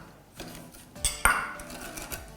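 Granulated sugar pours into a pot of coconut milk on an unlit stove, with a few light clinks and knocks against the pot and a soft granular rustle, close and fairly quiet.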